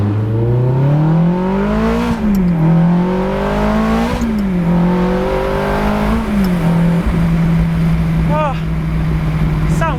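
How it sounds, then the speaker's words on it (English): Ferrari fitted with a gated manual conversion revs hard through several rising pulls, the engine note climbing and dropping in waves, then settles into a steady idle with popping exhaust burbles near the end, loud and close. "This car's got a lot of burbles."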